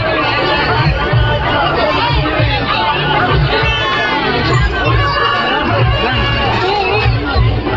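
A dense crowd chatters at a Dussehra fair, a loud steady hubbub of many voices with children shouting and cheering now and then, close and continuous throughout.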